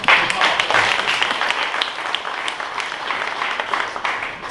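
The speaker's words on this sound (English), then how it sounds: "Please, a round of applause." An audience at a Bitcoin legal panel event breaks into dense, sustained applause that fills the room, with a few voices faintly mixed in beneath the clapping.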